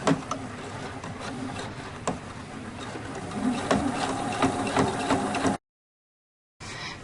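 Sewing machine stitches fabric binding through a bias binder foot, giving a steady close mechanical whir with small knocks before cutting out abruptly, then resuming briefly.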